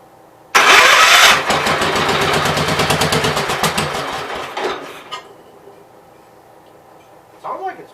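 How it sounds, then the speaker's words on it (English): A Gravely 810 tractor engine cranks loudly and rapidly for several seconds with a rhythmic chugging beat, then cuts out, followed by quiet and a brief final burst of noise. "It's making fuel pump noises."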